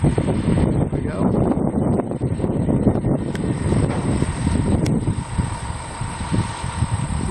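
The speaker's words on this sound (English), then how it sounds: "We got a little wind going on here" Wind buffets the microphone at a monopole tower site during the tower's erection, a constant, fairly loud rushing roar that runs unbroken for about seven seconds.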